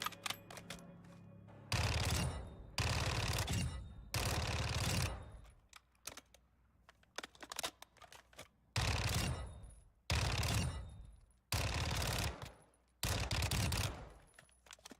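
Automatic gunfire from Warzone 2.0 rips out in about seven loud, sustained bursts separated by short pauses, with faint ambient game noise between them.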